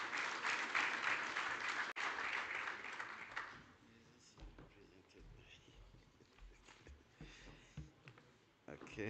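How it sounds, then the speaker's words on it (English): Applause from a conference audience in a hall rises for a few seconds and then fades out. Scattered sounds and a faint voice follow in a quieter room. "Let's give him a round of applause."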